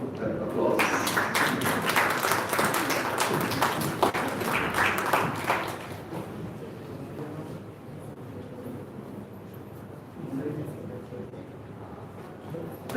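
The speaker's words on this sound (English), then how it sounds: "May we have a round of applause?" Audience applause at a conference inauguration ceremony, dense clapping for the first six seconds that thins to a quieter scattered patter with some talk underneath.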